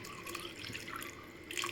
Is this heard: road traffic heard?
no